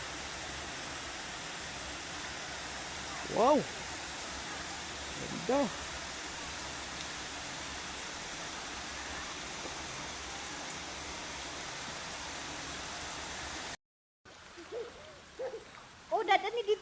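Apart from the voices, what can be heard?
river flowing at a spring resort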